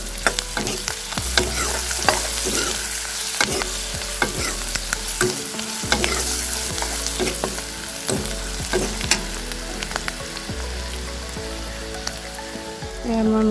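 Onions frying in a pan with turmeric and ginger-garlic paste for a pork dish, a steady sizzle broken by repeated scraping stirs of a spoon against the pan, close and continuous without speech.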